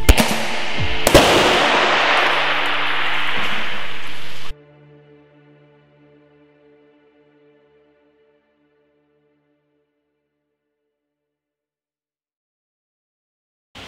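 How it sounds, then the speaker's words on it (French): Taginn Archangel airsoft flashbang grenade bursting on impact against a hard surface: a loud, sharp double crack with a dense roaring burst lasting a few seconds, then cutting off abruptly into a fading ringing tail and silence. "c'est la grenade qui va créer un flashbang à l'impact sur une surface dure"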